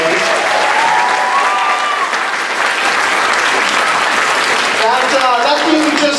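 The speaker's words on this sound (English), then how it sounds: "Have another round of applause for these wonderful students on stage." An audience at a school fall movie concert applauds student performers with dense, sustained clapping that fills the hall, loud and continuous, while someone speaks over it near the end.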